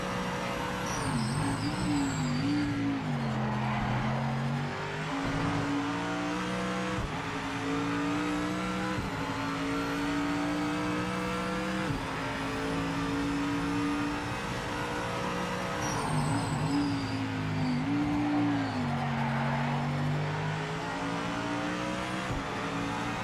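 The engine of a race car in the racing game Project Motor Racing drones steadily and loudly, its pitch rising and falling through gear changes as it accelerates and brakes around the track.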